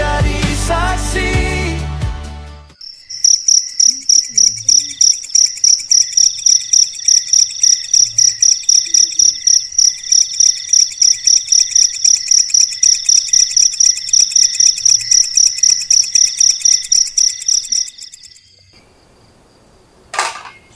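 Insects trill loudly in steady, rhythmic pulses for about fifteen seconds on a morning at Gunung Pancar, with faint bird calls mixed in.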